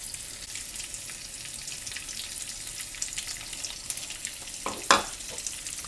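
Onions frying gently in a pan with a pinch of salt, a soft steady sizzle and crackle with a brief louder clatter of stirring near the end.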